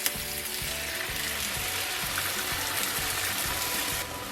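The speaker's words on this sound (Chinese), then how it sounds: "咱们将茄子煎软， 像这样把茄子炒软。" Eggplant stir-frying in a pan for garlic-flavoured eggplant, a dense, even sizzle with a rhythmic spatula stirring pulse that carries on for several seconds, then slightly eases near the end.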